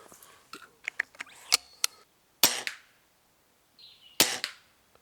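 Rifle shots during standing target shooting from Primos trigger sticks: a few sharp, short cracks with quick decays, separated by quiet gaps and small handling clicks.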